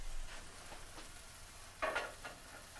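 Eggplant cooking in a pan gives a faint, soft sizzle with a few sharper crackles and a brief louder pop of spattering near the end.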